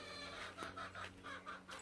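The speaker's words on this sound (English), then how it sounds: "So this is the chickens that you always hear in my videos" Backyard chickens cluck close by in a quick run of short, repeated bursts over a steady low background hum, with no talking.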